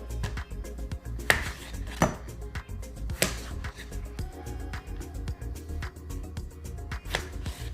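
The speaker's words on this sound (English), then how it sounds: "And then our bigger tomatoes like this, we're just going to cut them" A knife cutting large tomatoes into chunks for a summer salad on a board, irregular firm chops and knocks, some sharper, close and fairly loud across the whole stretch.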